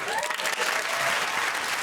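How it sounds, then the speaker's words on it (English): Studio audience on a comedy panel show breaks into a round of applause, a dense, steady wash of clapping lasting nearly two seconds without pause. "Let's retract that round of applause."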